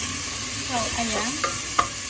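Bacon sizzles in a pan with bay leaf, garlic and rosemary, a steady broadband fry with a few stirring scrapes and a sharp spatter near the end, with no voices.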